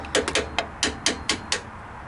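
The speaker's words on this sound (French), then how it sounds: "on va venir ici pour enlever les petites tiges avec le marteau" A hammer taps out the brake pad retaining pins on a Renault Megane 3 RS, giving about eight sharp, close metallic knocks at an uneven pace.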